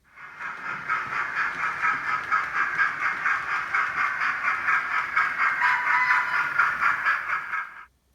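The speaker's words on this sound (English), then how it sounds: "In this update, I've installed sound in this steam engine." Steady hissing chuff of a sound-fitted model steam locomotive on the Trent Valley Railway layout, a continuous close rushing steam noise with faint rhythmic pulsing that holds for several seconds before cutting off abruptly.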